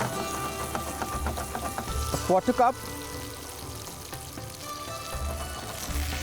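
Water poured into onion-tomato masala frying in a pan for dal mash fry, giving a steady close sizzle with a brief bubbling burst partway through, while a person talks over it.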